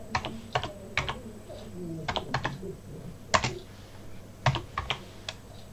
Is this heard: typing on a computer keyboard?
yes